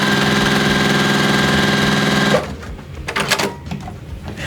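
A domestic sewing machine runs steadily, stitching quilt pieces together in one continuous mechanical hum for a couple of seconds, then stops, leaving faint handling and quiet room noise.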